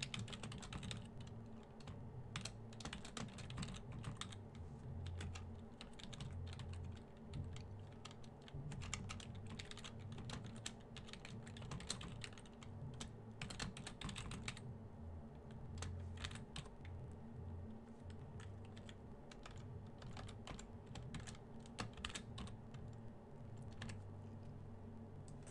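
Rapid, steady clicking of a computer keyboard while Java code is typed, continuous, close and quiet over a soft low background hum.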